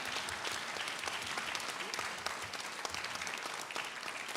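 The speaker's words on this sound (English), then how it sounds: "Let's give a tremendous round of applause for all of our Georgia State Senate candidates tonight." Steady, dense applause from an audience at a Georgia State Senate candidate forum, sustained clapping throughout without a break.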